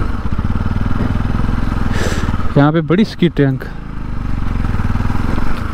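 A motorcycle engine drones steadily while riding a bad, slippery road in Reasi, Jammu and Kashmir, loud and close, with someone speaking briefly over it midway.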